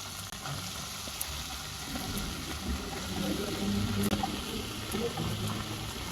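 Potato pieces frying in hot oil with cumin and green chilli for sabudana khichdi, a continuous soft hiss of oil that swells slightly midway, fairly quiet and with no one talking.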